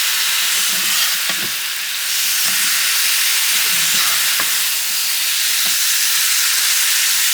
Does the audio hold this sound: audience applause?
no